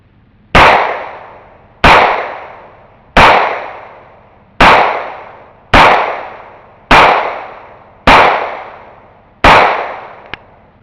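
Grand Power pistol fired freehand: eight sharp, loud gunshots spaced roughly a second and a quarter apart, each with a short ringing decay, followed by a faint metallic click at the end.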